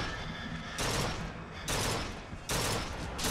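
Sniper gunfire in the video game Bioshock Infinite, three loud, sudden blasts at roughly even intervals, each followed by a long ringing tail of noise.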